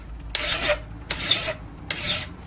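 A file rasping along the blade of a Morakniv Craftline Basic 511 high carbon steel fixed blade knife held in a vise, three long bright scraping strokes in steady rhythm, close and loud, with no talk.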